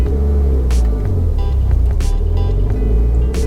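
Manual-transmission car engine accelerating in first gear, a loud, steady low rumble that builds under road and wind noise, with a few short clicks and knocks.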